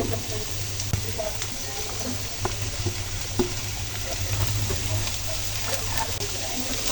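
Capsicum and chopped garlic frying in a pan for fried rice made from leftover rice, heard as a continuous close sizzle with scattered stirring taps and clinks, over a faint low hum.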